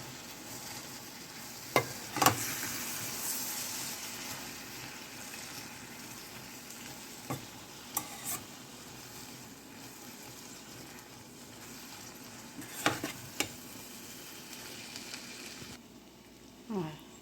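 Ingredients for a rajma curry fry in a pan with a continuous close sizzle, broken by occasional clattering spoon strokes as they are stirred, no voices.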